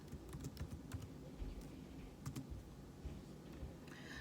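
Rapid clicking of keys on a computer keyboard as a short sheet name is typed, a steady run of close, light taps over a quiet room hum, with no talking.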